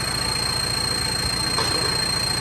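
A turbocharged engine idles steadily beside a Thai tuning shop, its exhaust giving a low, even rumble with a faint high whine running through it. The sound is continuous and moderately close, with no talk.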